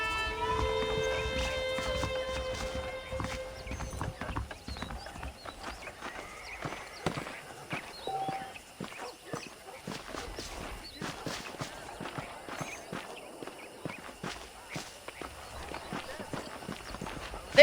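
Horse hooves clip-clop in the Red Dead Redemption video game, a steady walking rhythm running through the whole stretch beneath game music and voices.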